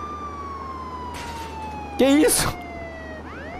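A police siren on the player's car in Contraband Police wails loudly with slowly falling tones, while a voice briefly speaks and exclaims over it.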